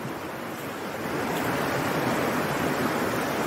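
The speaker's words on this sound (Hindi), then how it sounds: "और पानी का शोर तो आप सुन ही रहे होंगे" Steady, loud rush of a river flowing between mountains fills the whole clip, a broad continuous roar like fast water, with no voices.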